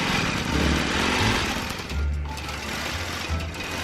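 A longarm quilting machine stitches a ribboned quilt with a continuous, close mechanical whir and a low motor hum that rises and dips slightly as it runs.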